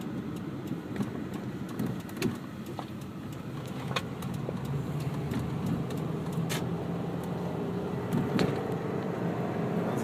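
A car cruises along a quiet freeway on a Saturday morning, steady road and engine rumble with tire noise holding evenly throughout, interior perspective, with faint ticks and light rattles now and then.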